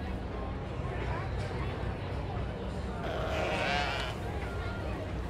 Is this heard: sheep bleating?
yes